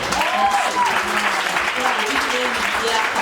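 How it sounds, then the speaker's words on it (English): A church congregation at a Ghanaian wedding applauds continuously, dense clapping filling the space while a voice speaks over it. "Put your hands together for them."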